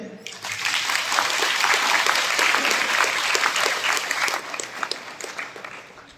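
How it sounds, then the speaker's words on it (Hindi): A congregation at a Christian prayer meeting claps to glorify God, a broad wave of hand-claps that swells quickly, stays strong through the middle and tapers off toward the end. "एक बार ईश्वर की महिमा ताली बजाइए"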